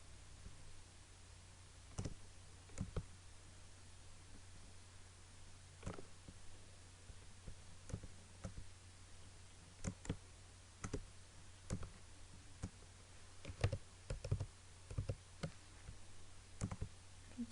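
Separate keystrokes tapped on a computer keyboard, with irregular, sparse clicks that grow busier toward the end, quiet and close over a low steady hum, with no talk.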